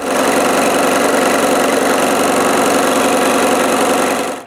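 A steady, loud motorized saw whines continuously through the whole stretch, a dense buzzing drone with no pauses, as if cutting through wood.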